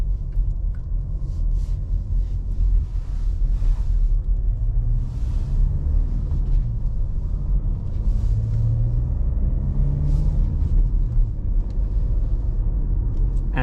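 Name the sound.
Volkswagen Tiguan 2.0 TDI diesel manual driving off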